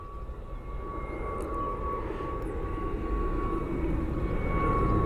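A Frontier airliner rolling out after touchdown, its broad engine roar and rumble building steadily and staying loud and close throughout, with a faint steady whine above it.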